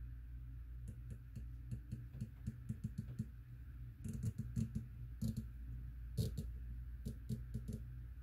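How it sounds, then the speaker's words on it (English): A series of sharp, positive mechanical clicks from the half-MOA turret of a SIG Sauer Tango6T 1-6x24 rifle scope, in uneven bursts, some quick runs of several clicks, over a low steady background hum. "Very positive click. Nice loud detent."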